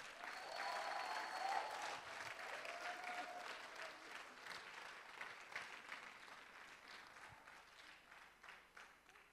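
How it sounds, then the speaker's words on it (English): Faint round of applause from youth at a 2017 graduation ceremony, steady scattered clapping that slowly fades, with a voice briefly heard over it near the start. "Let's give them a round of applause from the youth"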